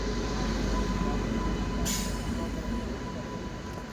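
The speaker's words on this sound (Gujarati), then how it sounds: "હવે ટ્રેન આવી ગઈ છે" A train, number 59558, rolls into a station with a steady low rumble of wagons and a brief high squeal partway through, continuous and fairly close with no talk.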